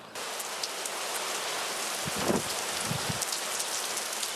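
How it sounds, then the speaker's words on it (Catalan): Steady rain falls on open ground near a ravine, a dense even hiss throughout with a few heavier patters and drops in the middle. "està començant a ploure"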